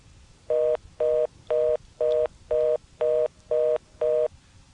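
Eight evenly spaced DTMF touch-tone bursts, loud and clean against a faint line hiss, dialed into an ITT Pentaconta crossbar telephone switch in Asheboro, North Carolina, in 1986.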